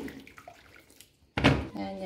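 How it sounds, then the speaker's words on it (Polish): Water is poured into a cooking pot in a home kitchen, starting as a sudden loud rushing splash that then settles, after a quieter stretch of soft background noise and faint voices. "Wody dolewam trochę."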